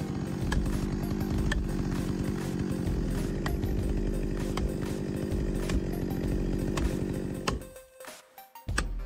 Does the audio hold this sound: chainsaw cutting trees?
yes